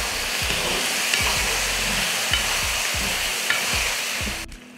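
Steady sizzling of cauliflower masala in a hot pan with a regular scraping rhythm of a spoon stirring, close up, before the noise cuts off abruptly.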